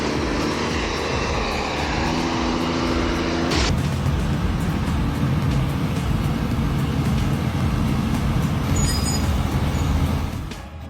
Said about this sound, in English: That classic W900A remains an absolute beast, hauling a colossal load of timber up treacherous inclines, advancing fearlessly with a thunderous roar.